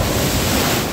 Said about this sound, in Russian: Ох, волна, сейчас ее.